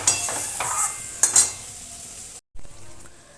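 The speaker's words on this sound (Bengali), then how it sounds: "মশলাটা ভালো করে কষিয়ে নেব।" Spice masala with a whole tomato, coriander powder, salt and turmeric being stir-fried in a pan for a snakehead fish and cabbage curry, with a steady close sizzle and a few scraping stirs and utensil clinks against the pan.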